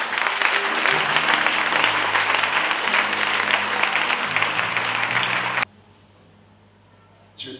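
A church congregation at a sermon on authority over demons claps and acclaims the Lord in a loud, dense burst of applause lasting over five seconds, then cuts off abruptly into near silence before a short sound at the end.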